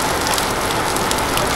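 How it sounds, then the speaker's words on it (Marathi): Heavy monsoon rain pours down in the Konkan region, a loud, steady, dense hiss of drops drumming on surfaces with no break and no voices. "पाऊस पडतो असं ऐकलं मी, पण हा पाऊस तुफानी आहे बघा."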